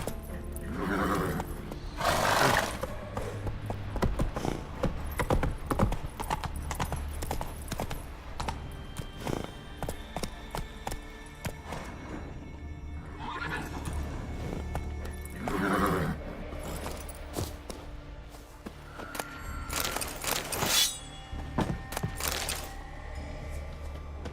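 Horse in The Witcher 3 video game neighing and whinnying loudly several times over a steady clip-clop of galloping hooves, close and continuous, with game effects underneath.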